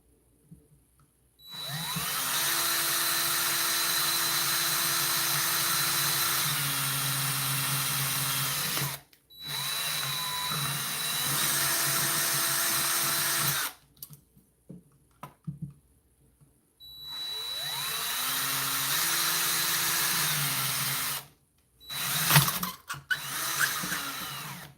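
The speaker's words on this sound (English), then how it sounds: "We're going to go ahead and use this drill bit, because that's going to give us a little bit of a cleaner go through." A power drill with a bit bores through material during circuit bending, whining loud and close in three long sustained runs broken by short pauses and a few brief bursts near the end, with no talk.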